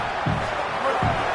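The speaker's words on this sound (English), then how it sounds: "Listen to this crowd just shaking the girders of this place, trying to help their defense." A stadium crowd at a football game roars steadily in a dense, distant wash of cheering, broken by two dull thumps.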